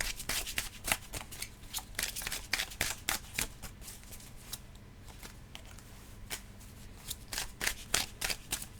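Tarot cards being shuffled and drawn by hand, a quick run of crisp, papery riffles and flicks, some fast and clustered, others spaced apart, close and fairly quiet.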